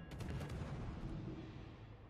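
Guns of the destroyer Daring fire in a naval battle video game, a quick cluster of heavy booming shots at the start that fade into a long rumbling decay.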